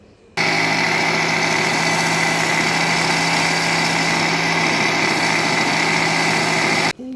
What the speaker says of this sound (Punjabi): ਹੁਣ ਆਪਾਂ ਇਹਨੂੰ ਗ੍ਰਾਈਂਡ ਕਰ ਦੇਣਾ ਚੰਗੀ ਤਰ੍ਹਾਂ ਮਿਕਸ ਕਰ ਲਈਏ